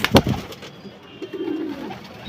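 Pigeons coo softly nearby in a loft, low throaty calls mixed with a few sharper bird sounds and light rustling in an enclosed space.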